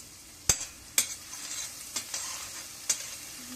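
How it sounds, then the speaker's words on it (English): Green chilies fry in hot oil for a carrot curry as a spoon stirs them, with several crisp scraping knocks at uneven intervals over a quiet sizzle. "stir it nicely"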